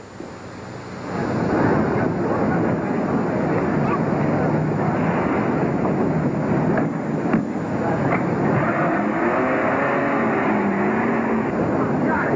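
A car starts up and pulls away as a sound effect in an old radio drama, a broad rumbling engine roar that builds and holds under a rushing, hissy wash, with voices briefly heard.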